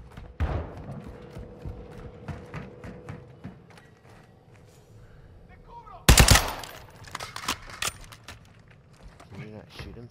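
Gunfire in a first-person shooter at a chemical plant complex: rapid automatic bursts and scattered shots, with a loud cluster of fire partway through, under ongoing voice chat between players.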